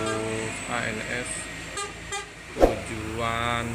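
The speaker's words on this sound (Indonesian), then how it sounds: "Melintas lagi bus ANS tujuan Padang." An ANS night bus bound for Padang passes along Jalan Kramasan in Palembang, its engine rising and fading as it goes by, with a sharp horn blast midway and someone talking over it.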